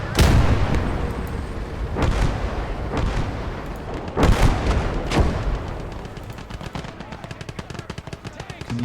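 Mortar fire in a World War II battle video game: heavy explosive bursts land at irregular intervals over a bed of rattling gunfire, loud and close.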